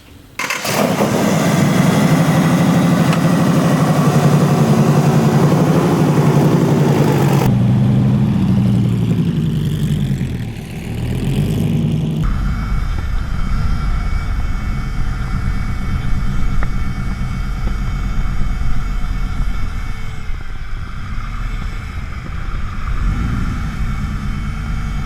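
Allen Millyard's Viper motorcycle, a 500-horsepower V10, cranks and fires up, then settles into a loud, close idle with blips and a throbbing rumble that runs on for over twenty seconds.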